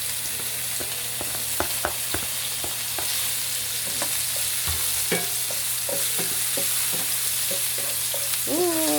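Garlic and onion sautéing in a pan with tofu set aside, a steady soft sizzle broken by scattered scraping stirs and light utensil taps, close and alone without talk.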